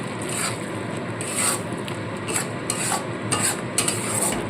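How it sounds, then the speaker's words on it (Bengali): Ginger, garlic and onion masala frying for a Bengali tangra fish curry, stirred continuously so a loud close scraping and rasping runs over a steady sizzle, with repeated bursts from the spoon. "মশলাটাকে কষাবো যতক্ষণ না মশলা থেকে তেল ছাড়তে শুরু করে"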